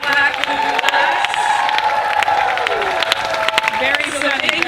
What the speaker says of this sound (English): everyone can cheer for that